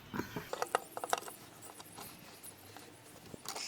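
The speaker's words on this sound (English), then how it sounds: "Clamp that." A clamp on a metal welding fixture is tightened, giving a quick run of faint ratcheting clicks and small metallic knocks that settle into quiet shop background.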